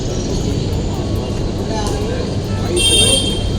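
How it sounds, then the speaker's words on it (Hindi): Busy city street with dense, continuous traffic rumble and a short horn toot near the end, close and loud throughout, with a person talking over it. "मैं इस वक्त बिजी स्ट्रीट में हूँ, आसपास काफी ट्रैफिक है, नॉइज है"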